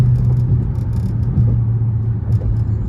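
Steady low rumble of a Dodge Charger SRT Hellcat engine while driving, heard from inside the car, loud and continuous without revving peaks.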